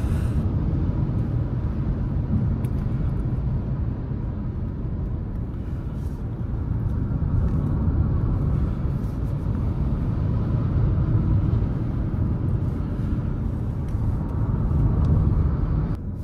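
Renault 5 electric car, 150 hp, driving on a road: a steady low rumble of tyres and road noise from inside the cabin, continuous and even throughout.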